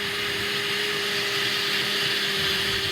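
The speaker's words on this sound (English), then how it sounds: "We put that in a blender and give it a whirl." An electric blender whirring steadily as it mixes a salad dressing of vinegar, fresh garlic, parmesan, Italian seasoning and salt, a loud and constant motor hum heard close up with no talking.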